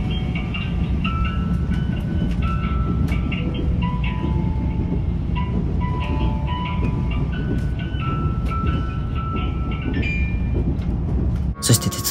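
A JNR-liveried Yakumo limited express runs on rails in the rain near Matsue, heard from inside as a loud, steady rumble with rhythmic wheel clatter and a thin melodic chime over it; near the end comes a brief louder burst.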